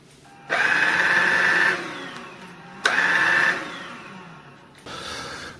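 Kärcher VC 4 cordless stick vacuum cleaner running in a home, switched on in two loud, steady bursts of motor whine and airflow, each winding down, then starting briefly a third time, close to the listener.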